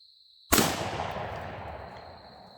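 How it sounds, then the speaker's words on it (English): A Marlin rifle fires a single sharp, loud shot at a can of candied yams, a close blast after a moment of near silence, followed by a long fading outdoor echo. "Should I shoot a can of candied yams? I think so."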